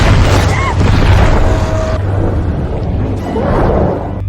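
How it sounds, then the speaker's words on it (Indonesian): A house explosion in the 2025 film Final Destination Bloodlines: a loud, deep, sustained blast with a rumble that fills the whole moment, then slowly eases into lingering roar and debris noise. "maut mulai menjalankan aksinya dan meledakkan rumah Iris"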